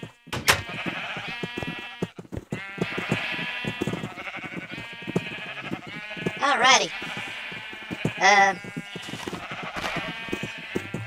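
Repeated bleats from Minecraft sheep crowd a video game scene, several nasal cries stacked closely together, with two louder wavering calls standing out, under a person's talk.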